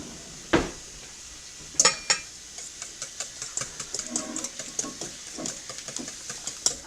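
A whisk scrapes and taps steadily against a pan in a home kitchen during turkey and pumpkin French toast prep, a few sharper clanks early on followed by a fast, light rhythmic clatter, with no talking.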